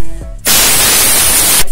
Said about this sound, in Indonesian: kalau teman-teman ada yang punya kompresor bisa semprot kompresor